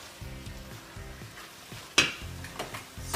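Homemade chili being stirred in a warm pot, with a spoon scraping and knocking in a steady rhythm at close range, then one sharp clank and a few louder scrapes at the end. Faint sizzling runs underneath, and no one speaks.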